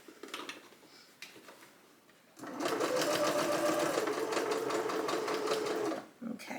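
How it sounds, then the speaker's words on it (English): A sewing machine runs steadily for several seconds, stitching blouse fabric, preceded by a few faint ticks and fabric handling at close range; no talking. "Backstitch and cut."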